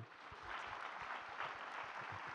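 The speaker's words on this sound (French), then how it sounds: "On peut l'applaudir." An audience at a lecture hall event on secularism applauds with dense, steady clapping that holds at an even level for a couple of seconds.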